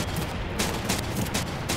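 Machine gun fire at Henderson Field in Medal of Honor: Pacific Assault, a rapid rattling burst of close, steady shots over a dense battlefield rumble, lasting under two seconds.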